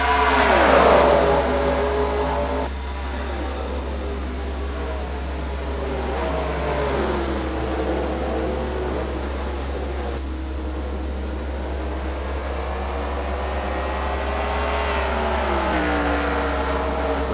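Race cars on a 349 racing circuit accelerate after the green flag, engines droning and revving with rising and shifting pitch through gear changes, loud and continuous with no talking.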